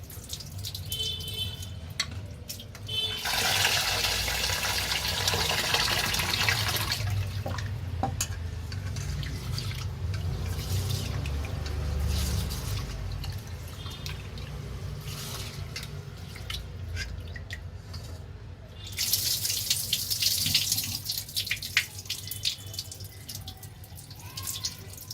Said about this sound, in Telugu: రైస్ వాషింగ్ అయిపోయిందండి